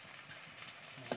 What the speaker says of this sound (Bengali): মাছের মাথা দুটো ভেজে নেব